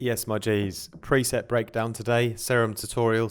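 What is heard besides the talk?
No everyday noises stand out.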